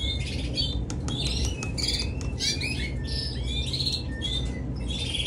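Many canary chicks chirp and squeak in rapid overlapping bursts during feeding, high and busy, over a constant low background rumble; no one speaks.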